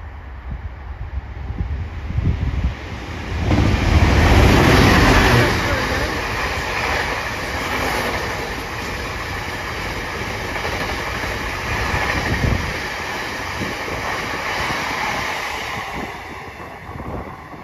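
A Class 66 diesel locomotive train approaches through Chesterfield station, its rumble swelling to a loud roar with rolling wheel noise and clatter on the rails, then a steady passing drone.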